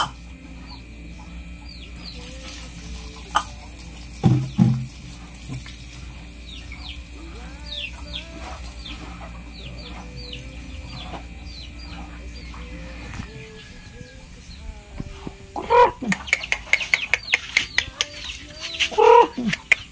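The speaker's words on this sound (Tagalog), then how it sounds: "magpakain na ako ng mga manok." Chickens cluck and call intermittently over a steady background hum, growing busier with bursts of clucking and fluttering toward the end.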